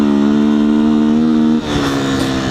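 A 2019 Beta 125 RR S motorcycle held wide open in second gear, giving a loud, steady, buzzing engine note that drops abruptly near the end, then rough uneven engine noise.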